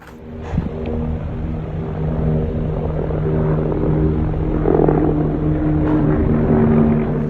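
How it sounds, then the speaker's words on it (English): A low, steady drone with a throbbing rotor-like hum swells gradually, holding loud near the end as a helicopter carrying an empty rope passes close by over the Grand Canyon. "So that helicopter that just flew by had a rope on it that was empty."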